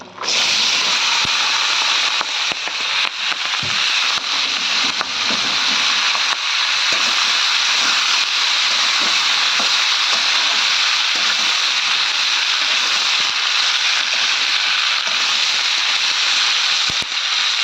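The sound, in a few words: spring onion stalks frying in oil in a wok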